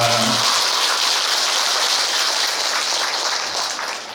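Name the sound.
applause for the choir at a Buddhist service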